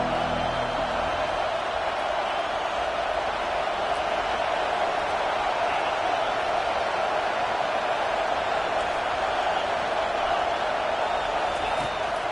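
A home crowd at a football game roars steadily as the defense tries to get off the field on third down, a dense continuous wash of noise without clear breaks.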